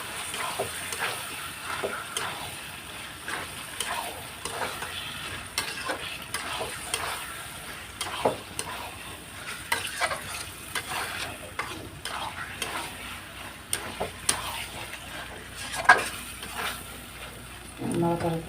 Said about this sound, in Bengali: দিয়ে নাড়াচাড়া করে নেব।